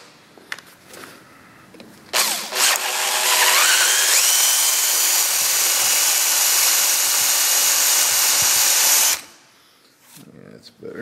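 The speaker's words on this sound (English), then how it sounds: "Different drill bit, stub drill." A power drill fitted with a stub drill bit runs loud and steady for about seven seconds, its pitch shifting as it bites, then cuts off; faint handling noises come before and after.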